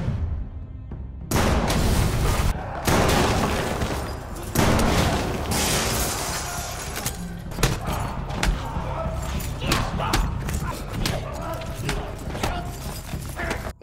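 Gunfire in a fight scene from the 2017 Korean film A Special Lady, with loud bursts and impacts: a sudden blast, then repeated shots and thuds through a dense, chaotic action soundtrack.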